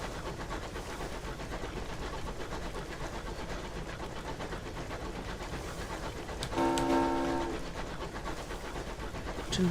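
Locomotive in the game Sunless Skies, a steady rumbling chug of rails throughout with a brief tonal horn blast near the end, moderately loud and without talk.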